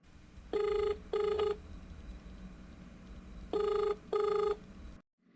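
A phone line gives two pairs of rings, each a double burst of steady tone with a long pause between the pairs. The tones sound slightly distant and thin, as heard through a handset while an outgoing call waits to connect.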